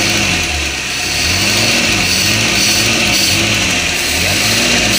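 Suzuki Espass car engine running on LPG, revving with a steady loud mid-pitched drone and rising and falling throttle swells throughout, with a rough, slightly shaky character.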